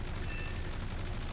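Rapid aircraft guns firing in War Thunder, a dense, sustained rattling burst that runs steadily and loudly through the whole moment with no talk.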